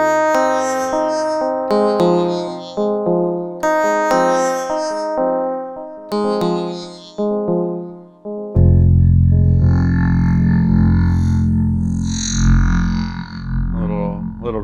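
Notes from a 3rd Wave Wavemaker synthesizer play in short melodic phrases, then give way to a thicker, washed-out, reverb-laden synth texture that rings and blurs.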